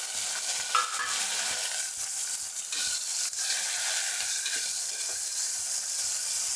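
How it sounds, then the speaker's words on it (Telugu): Chopped tomatoes fry in a pan for khichdi upma with a steady, close sizzle and occasional stirring scrapes and light clicks throughout. "అయితే అది కొద్దిగా ఈ టమాటాలు కూడా వేసేసుకుంటున్నాను."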